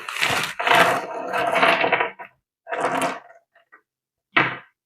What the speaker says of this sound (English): see if I can pour them out here